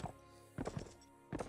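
Horse hooves in the Mount & Blade Warband video game make a few distinct clip-clop strikes at an uneven pace, clear and close, with short quiet gaps between them.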